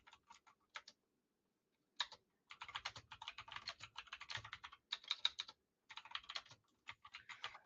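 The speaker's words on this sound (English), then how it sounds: "Sorry for this keyboard, guys. I'm getting my new one on Christmas, so it won't be loud like this." Rapid clattery keystrokes from a loud computer keyboard come in bursts of typing separated by short pauses, crisp and close with no talking.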